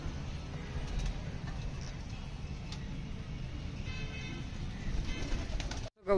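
Pigeons coo in a rooftop loft in a town, soft rolling coos mixed with a busy outdoor murmur of low rumble and distant traffic, ending with a sudden brief dropout and a thump.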